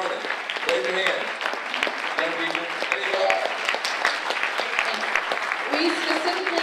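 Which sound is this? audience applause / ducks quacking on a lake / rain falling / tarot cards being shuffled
audience applause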